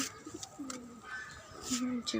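Soft, low pigeon coos come in two short bursts amid faint outdoor background noise.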